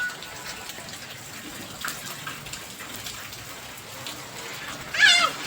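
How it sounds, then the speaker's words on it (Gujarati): Light rain falling outdoors, a faint steady patter of scattered drops heard alone, with a brief louder sound near the end. "જરી જરી ટીપા પડે છે"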